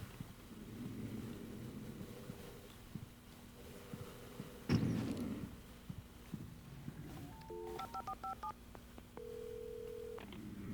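Telephone dialing in the video game Alan Wake: a quick run of short paired keypad tones, then a steady tone, set over a low, throbbing game ambience with a sharp thud partway through.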